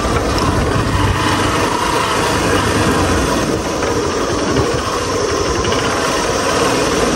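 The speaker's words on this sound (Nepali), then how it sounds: "बाइकको आवाज सुनेको त कस्तो आएको क्या" A steady, close engine idle rumbles throughout, an even mechanical drone with a slight vibrating texture and no pauses.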